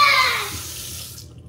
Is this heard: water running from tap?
yes